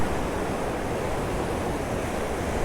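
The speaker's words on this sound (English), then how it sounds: "Wait for the waves to pull out and then make the exposure." Ocean waves wash in and pull back on a beach at sunset, a steady, close, full-bodied surf hiss with no talk over it.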